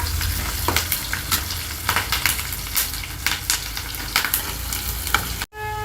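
Onions and curry leaves fry in oil for misal, a loud close sizzle with regular scraping strokes of the spatula, ending abruptly in a brief cut to quieter tone.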